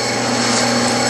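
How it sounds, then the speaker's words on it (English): A small 3/32 drill bit boring a hole on a lathe while making a plumb bob, a loud steady machine whine and hum that holds constant throughout, with no talk. "Okay, we'll put the 3/32 in. Now when you drill these small holes,"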